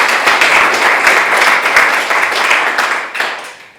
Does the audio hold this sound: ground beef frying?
no